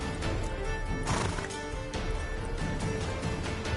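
A horse in The Witcher 3 game, set in Skellige, whinnies loudly near the start while hooves clip-clop steadily throughout, close and prominent against a busy backdrop.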